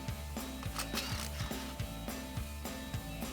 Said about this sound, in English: Grab a 10mm socket and get those off.